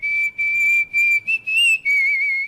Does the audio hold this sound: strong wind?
no